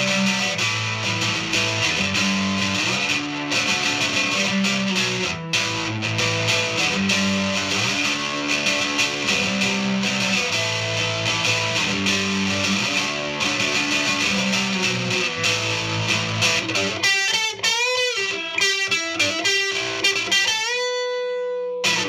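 Distorted electric guitar played through a white Fender Squier Stratocaster with Seymour Duncan pickups on the middle pickup, moderate gain and no reverb, strummed chords and riffs ringing loud and continuous, ending with a few sustained bent notes.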